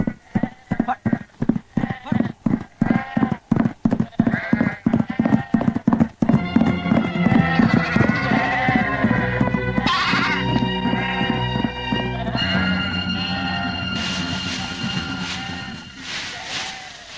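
Goats bleat on a rural village road, a series of loud, close wavering cries that follow a stretch of rapid hoof-like clip-clop patter.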